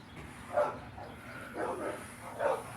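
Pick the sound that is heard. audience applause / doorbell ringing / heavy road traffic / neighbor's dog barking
neighbor's dog barking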